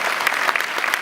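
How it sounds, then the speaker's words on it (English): Audience at a San Diego Comic-Con 2015 panel for Mike Tyson Mysteries claps steadily, a dense, loud burst of applause filling the hall. "while we're applauding"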